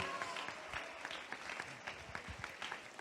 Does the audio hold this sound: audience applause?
yes